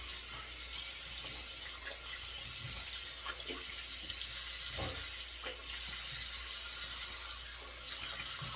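Hot water runs steadily from a tap into a sink before a wet shave, a continuous close splashing stream with small clinks of handling and no talk.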